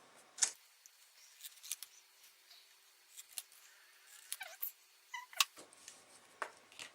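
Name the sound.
scissors cutting up paper artwork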